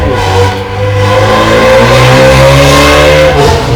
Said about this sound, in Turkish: arabanın sesine baksanıza ya. Ya yapmayın şu egzozlarınızı böyle ya.